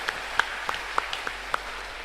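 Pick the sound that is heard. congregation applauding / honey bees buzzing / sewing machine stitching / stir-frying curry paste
congregation applauding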